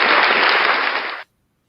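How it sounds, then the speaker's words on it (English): A loud, dense burst of clapping rings out as a round of applause, sustained for just over a second before cutting off sharply into silence. "Yes, folks, that deserves a round of applause."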